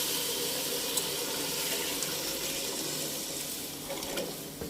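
Water or stock streams steadily into a cooking pot of beef pulao, a continuous broadband pouring rush that holds for several seconds without pause and with no one talking.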